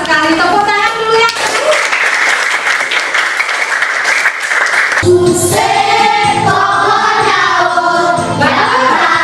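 Schoolchildren in a classroom clap together, their applause mixed with loud voices chanting and speaking around it, the clapping strongest in the middle.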